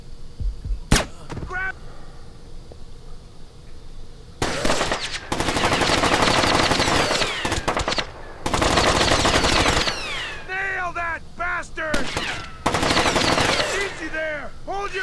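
Heavy automatic gunfire from Splinter Cell Chaos Theory comes in loud sustained bursts separated by brief lulls, with shouted voices and ricochet-like whines between the volleys.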